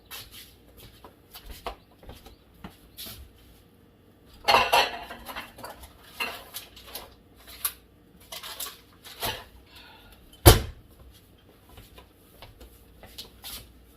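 Kitchen bowls and dishes are handled while making cornbread salad, with scattered clinks, knocks and rustles and one sharp clatter, moderately close and without talk.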